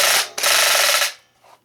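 A 1960s Marx toy machine gun being cocked back, a loud close plastic ratcheting rasp lasting about a second after a brief first click, then a faint short rattle as it settles.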